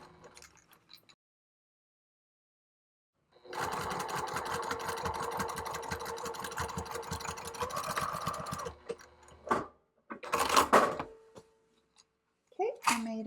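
A sewing machine runs steadily for about five seconds while stitching fabric around the base of a drawstring bucket bag. A few short, sharp bursts of sound follow after it stops.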